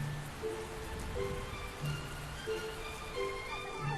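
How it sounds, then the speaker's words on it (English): Steady rain falling at Santa Kiri, Thailand, a constant dense hiss of drops through the whole stretch, with faint tonal calls or sounds rising in the background and no talk. "At the end of April, it finally rains in Santa Kiri."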